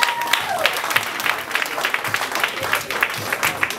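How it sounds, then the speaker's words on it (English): A crowd applauds the performers at a variety show in Conyers, Georgia, with brisk, uneven clapping at moderate distance and scattered voices underneath. "Give a round of applause for everybody."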